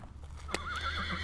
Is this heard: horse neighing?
yes